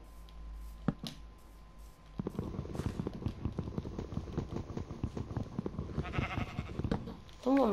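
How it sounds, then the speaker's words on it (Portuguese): A Minecraft sheep gives a short bleat near the end, after a stretch of rapid, steady footstep-like game sounds during forest exploration in hardcore mode. "olha essa ovelha aí"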